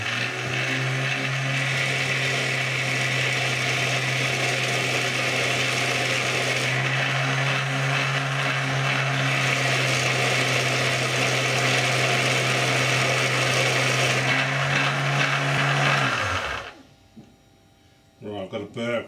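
A DIY sharpening machine grinds the Sharpie-marked bevel of a blade on a 120 grit belt, a loud continuous motor whine and abrasive hiss held steady for about sixteen seconds before spinning down.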